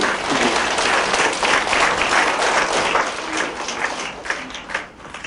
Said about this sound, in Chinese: 那我们先以掌声，